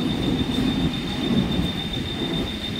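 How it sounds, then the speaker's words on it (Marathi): A Mumbai local train rolls into Diva Junction station with a loud, steady rumble of wheels on rails and a thin high whine running throughout, no voices present. "कल्याण जाने वाली धीमी लोकल थोड़े ही समय में प्लेटफॉर्म क्रमांक 1 पर आ रही है"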